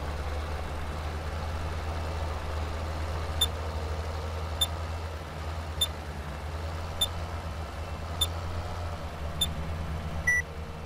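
A tractor engine in Farming Simulator 17 runs at a steady low idle throughout, with faint regular clicks or beeps sounding about every second and a half over the drone.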